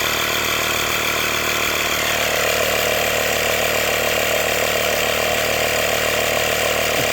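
A Hyper Tough portable tire inflator runs continuously while pumping up small bike tires, giving a loud, steady buzzing motor drone with a fast rattling pulse that does not vary.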